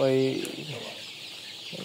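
Sonali chickens in a poultry shed give a short burst of close clucking at the start, then fade into a low, steady background murmur of the flock.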